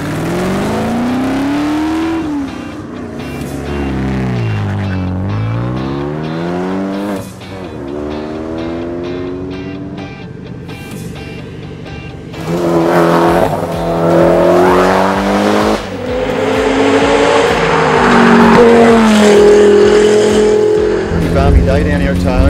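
Rally cars on the Targa Wrest Point stage rev hard and sweep past in loud engine runs that climb and fall in pitch, with tyre noise and a crowd-like wash as the cars accelerate through.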